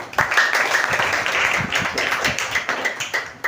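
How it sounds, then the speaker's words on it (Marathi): A school group claps for a teacher's birthday, brisk scattered applause from a room full of people that runs steadily for a few seconds. "टाळ्या वाजवा"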